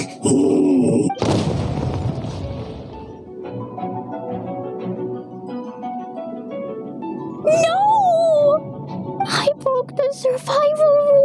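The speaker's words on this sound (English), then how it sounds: "Explosions can hurt people." Explosions in the video game Genshin Impact: a loud broadband blast early on over game music, then a cluster of sharp, brief pops near the end, with voices heard alongside.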